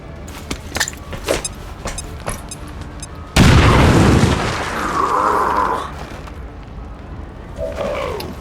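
A bomb goes off in the XCOM video game, a sudden loud boom that cuts in abruptly and rumbles on, fading over several seconds with lingering debris and sound effects.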